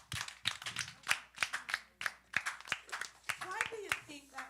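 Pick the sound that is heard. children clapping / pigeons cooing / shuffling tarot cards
children clapping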